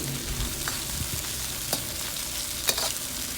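Cubes of double-cooked pork belly with a crusted cornstarch coating stir-fry in a hot wok, giving a steady, close sizzle with a few sharp clicks and scrapes as the pieces are tossed.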